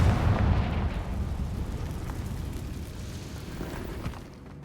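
Confringo fire spell explosion in a Harry Potter video game, one loud booming blast at the start whose rumble slowly decays over several seconds.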